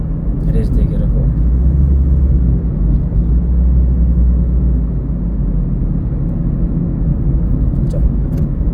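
Car engine held at raised revs during a driving assessment, a loud steady low rumble from inside the vehicle throughout, with people talking over it.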